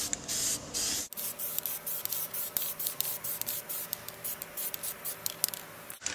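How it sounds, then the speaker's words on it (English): Spray paint hisses onto the sides of a lunchbox in a rapid series of short, close bursts, each a sharp airy spurt separated by brief pauses, with no voices. "First, we'll use some spray paint to get rid of any artwork on the sides"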